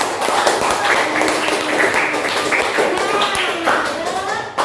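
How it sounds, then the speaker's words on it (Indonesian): Students in a classroom clap their hands together in a dense, even burst of applause lasting a few seconds, with scattered taps and voices mixed in. "tepuk tangan."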